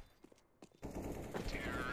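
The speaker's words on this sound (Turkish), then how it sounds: "Hakan abi atış ederken sanki 3 kişi atış ediyormuş gibi mermi gidiyor" Video game gunfire sounds as a short burst of rapid automatic shots that turns into a dense, sustained clatter.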